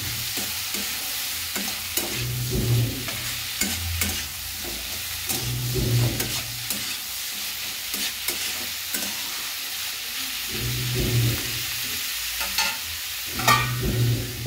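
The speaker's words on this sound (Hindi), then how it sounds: "डालने के बाद इसको हम अच्छी तरह से मसाला में मिक्स कर लेना।" Cauliflower is stirred into masala in a frying pan, with a steady sizzle under repeated scraping strokes of the spoon across the pan, all close and without speech.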